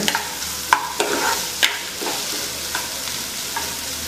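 Prawns being mixed with chopped onion in a bowl, giving soft wet stirring and squelching with a few sharper clinks scattered across a steady low hiss; no one speaks.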